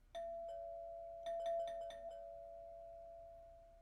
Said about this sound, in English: The front door chime sounded.